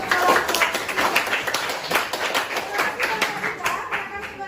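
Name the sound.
clapping for the group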